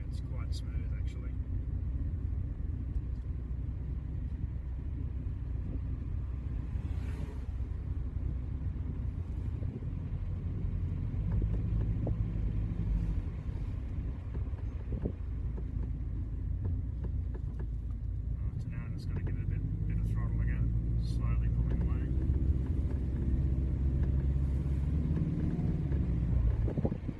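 Subaru EA82T turbo engine running a Megasquirt MS3x setup, idling smoothly with a steady low rumble throughout, some wind noise across the mic, and someone talking over it.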